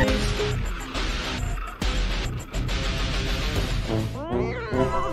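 A cat meows during a Turkish Twitch stream. The meows rise and fall over busy game sound and music, with a drawn-out call near the end. Voices talk in the background.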